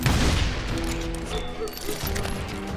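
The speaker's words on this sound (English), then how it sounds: "And what action game would be incomplete without explosive barrels?" Explosive barrels blowing up in the Western shooter Call of Juarez: Gunslinger, heavy booms and crashes mixed with gunfire and game music, loud and continuous over a few seconds.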